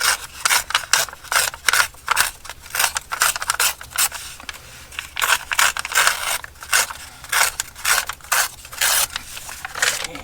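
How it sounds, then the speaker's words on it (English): Strips of paper are torn by hand during journal making, giving a run of close, crisp ripping bursts in an irregular rhythm with short pauses between tears. "maybe tear a few strips of this"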